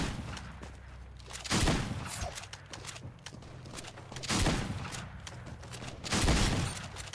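Dualies gunfire in a video game, heard as three loud bursts of rapid shots with quieter stretches between them, no voices.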